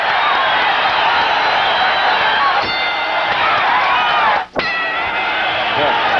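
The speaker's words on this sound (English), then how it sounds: "The crowd coming to its feet." A boxing arena crowd cheers and roars as it rises near the end of round two of Danny Lopez vs Salvador Sanchez. The sound is a loud, dense, sustained wall of crowd noise with a brief dip partway through, and a commentator speaks over it.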